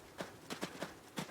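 Horse hooves clip-clopping in the Adios video game, four or five evenly spaced hollow knocks, fairly near and moderately loud, with no talk over them.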